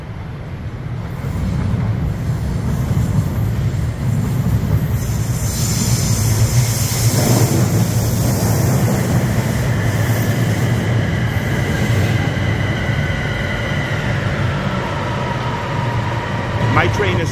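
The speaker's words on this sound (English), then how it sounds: "So the train is coming in" A Bangkok Airport Rail Link train rumbles steadily into a station, its wheels humming and faintly squealing, with a constant roar of rolling noise throughout and voices underneath.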